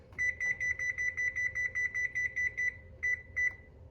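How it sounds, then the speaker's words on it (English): A digital kitchen timer is set while bread bakes: a fast, even run of short, high beeps, then two separate beeps after a brief gap, close and clear. "And now we're gonna set the timer"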